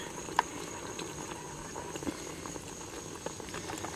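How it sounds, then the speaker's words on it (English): Glycol-water coolant boils steadily with soft bubbling and patter, an even fizzing wash at moderate level with a couple of small pops, no voices. "So the glycol water mix boils at a higher temperature than just plain water, but it still boils, that's for sure."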